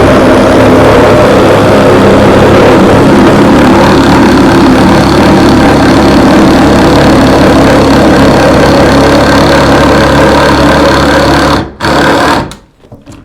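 A power saw cuts at an angle through the tongue of a floorboard, a loud, continuous motor whine with a buzzing cut that runs steadily and then winds down and stops near the end.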